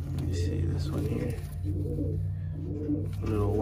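Birmingham Roller pigeons coo in repeated low throaty phrases close by, several rounds in a few seconds, with a person speaking softly over them.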